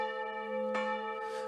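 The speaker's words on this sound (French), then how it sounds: "Le tintement des cloches," A church bell in the countryside rings with a steady sustained resonant tone, and a second fresh strike lands midway through as the hum lingers.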